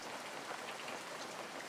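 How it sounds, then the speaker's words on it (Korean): Rain falls as a dense, steady hiss of drops on a surface, uniform and fairly soft with no pauses, used as a backdrop in a horror radio story, with no voices. "비가 내리기 시작하고 희미하게 안개도 끼었다고 합니다"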